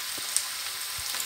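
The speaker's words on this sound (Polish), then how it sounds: "Smażymy na wysokim ogniu." Steady frying sizzle from a hot pan of wild green mushrooms over high heat, a continuous bright hiss with a few soft clicks and stirring knocks, no voices.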